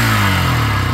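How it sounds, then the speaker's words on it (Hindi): Exhaust note of a Hero Xtreme 160R 4V motorcycle, heard up close as a loud, steady, throaty engine drone with a low pulsing rumble and no talk. "एग्जॉस्ट नोट सुन लीजिए।"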